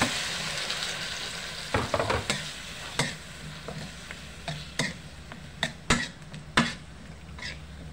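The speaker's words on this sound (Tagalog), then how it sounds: "Lagyan na natin ang ating upo." Bottle gourd going into a cooking pot, with a low frying sizzle under a series of sharp knocks and clatters from the pot and utensils, irregular and close.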